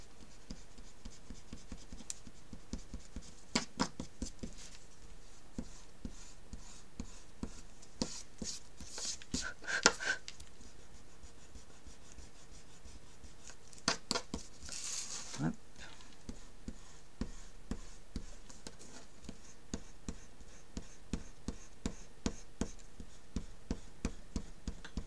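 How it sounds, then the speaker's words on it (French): A pencil eraser rubs back and forth on a paper album page at a desk, a long run of quick dry scrubbing strokes in an uneven rhythm, close and fairly quiet, with occasional louder knocks and handling sounds. "Je n'ai plus qu'à prendre ma gomme."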